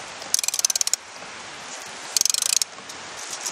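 A ratchet wrench tightens a nut onto a trailer axle in two quick bursts of rapid, even clicks, separated by a pause, close and crisp over steady outdoor background noise.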